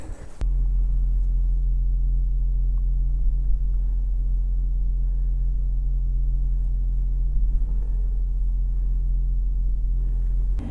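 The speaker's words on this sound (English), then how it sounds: "Engine's running because it's cold." An electric car's engine runs on a cold day, a steady low droning hum that holds constant and close throughout without revving.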